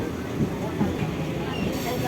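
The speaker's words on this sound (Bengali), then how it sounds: "এরপর আমরা ট্রেনে চেপে গেলাম, ট্রেন চলে এসছে।" A train arriving and running, a steady low rumble and rattle that stays close and even for the whole stretch, with no clear voices over it.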